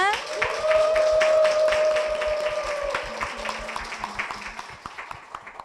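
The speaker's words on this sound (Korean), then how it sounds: "박수로 모시겠습니다" A church audience applauds to welcome a testimony speaker's husband and son to the front: a steady wash of clapping under music, loud at first and gradually thinning out toward the end.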